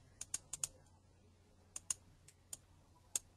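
Computer keyboard keys tap in short quick clusters with pauses between, crisp close clicks over a faint low hum, with no talking.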